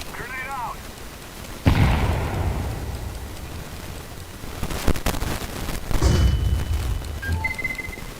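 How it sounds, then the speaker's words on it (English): A grenade in CS:GO goes off as a sudden heavy boom followed by a long rumbling decay. A second explosive thud comes later, and a game voice speaks briefly in between. "I'm throwing a grenade."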